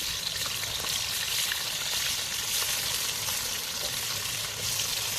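Chopped onion sizzles in hot oil in a wok for a gravy, a bright, steady crackling hiss that stays close and even throughout, with no voices.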